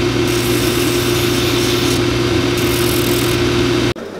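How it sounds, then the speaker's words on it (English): Powered sander grinding down the stacked leather heel of a White's work boot, a loud steady motorized drone running continuously with no pauses before cutting off abruptly at the end. "All right, so I have sanded it down."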